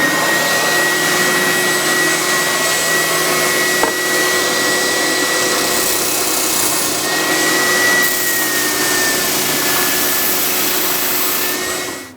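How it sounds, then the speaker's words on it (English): A spindle sander shapes an electric guitar body with a loud, steady machine drone and a high whine, with grinding of the wood throughout and the motor winding down at the very end. "prefer to use a spindle sander to achieve the same result. And that's what I'm going to use today"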